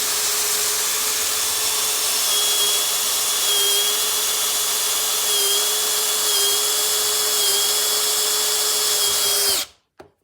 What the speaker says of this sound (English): Let's see how it makes holes. Switch to a 3/8 drill bit here.